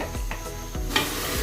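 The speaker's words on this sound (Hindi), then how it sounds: "अब हम इसमें 1/2 कप कुकिंग ऑयल डालेंगे" Cooking oil hitting cooked masala in a pan, a steady close sizzle with a few stirring scrapes, no voices.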